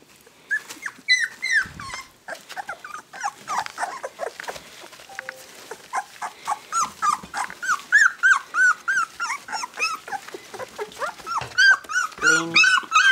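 Several pet dogs playing together indoors, with repeated close growls, whimpering squeals and yips in rapid, irregular bursts, plus scuffling paws throughout.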